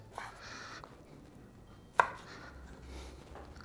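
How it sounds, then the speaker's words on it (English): A knife cuts trimmed walleye into chunks, giving a few soft chops on a board and one sharper, louder knock in the middle, close by with no talking. "We are starting by cutting these walleye into chunks."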